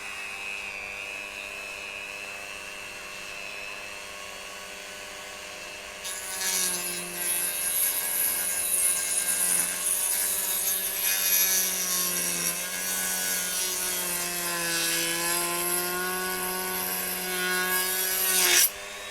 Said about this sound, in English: I'm going to use the Dremel to just cut through in between these armour plates on the track guards.